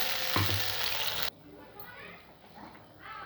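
Pointed gourd curry sizzles loudly as it is sautéed with a splash of water in a pan, a strong burst for about a second before dropping to a quieter simmering hiss with faint stirring scrapes.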